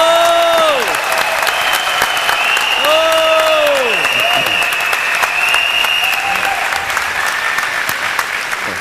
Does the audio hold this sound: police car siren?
no